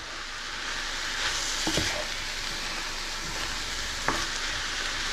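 Vegetables for a pineapple stir fry sizzling steadily in a hot pan, a continuous close frying hiss with a few brief clinks of stirring, no talk.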